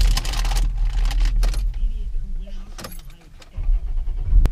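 A failing Land Rover LR3 engine rumbles steadily with a rough, uneven low drone inside the cabin, punctuated by clicks and knocks, while people talk over it.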